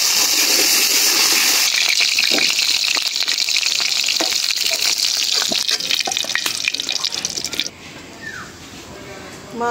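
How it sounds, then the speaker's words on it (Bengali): Potatoes sizzle loudly in oil left over from frying catla fish, a bright, crackling hiss close by that carries on for most of the stretch, then drops away sharply near the end. "মাছ ভাজা তেলে আলুগুলি ভাজা নিই"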